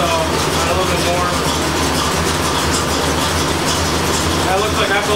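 A 1985 Corvette engine idling steadily, a loud continuous rumble with a constant low drone and broad mechanical noise that holds unchanged throughout.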